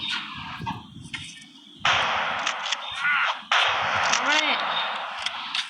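Gunfire from a gun in the Rope Hero video game, several sharp bursts with ringing tails close together over a busy game soundtrack, with a voice talking in between.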